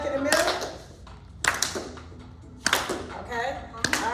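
A group in a clapping exercise for mental health claps in four sharp bursts spaced about a second apart, close by and fairly quiet, with a voice talking between the claps.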